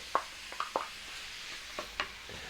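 Black beans are stirred into sizzling ground beef in a skillet: a faint, steady sizzle underlies a handful of sharp, separate spoon knocks and scrapes heard close up.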